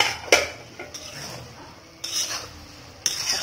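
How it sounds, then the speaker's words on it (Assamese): Chicken and cabbage stirred in a pot, a utensil scraping and clinking against the metal in a few distinct strokes over a faint sizzle. "মাংসখিনি আকৌ লৰাই দিম।"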